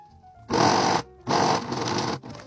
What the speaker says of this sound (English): Now that I have the 2 sides pinned down, I'm just going to sew from end to end.